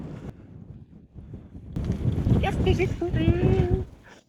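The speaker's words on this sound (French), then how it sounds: "le vent est très très fort ce soir" Strong evening wind buffets the microphone in a steady low rumble in the Vivarais countryside, and a voice speaks over it.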